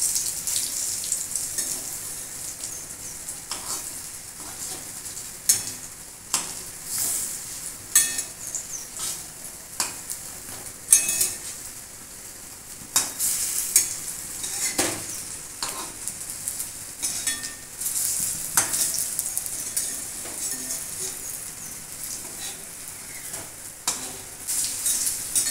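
Masoor dal fritters with pumpkin leaves sizzle steadily in hot oil, broken by repeated scraping and stirring of a utensil in the pan, close and continuous without talk.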